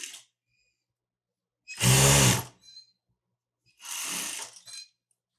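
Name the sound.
sewing machine stitching a Saudi jubba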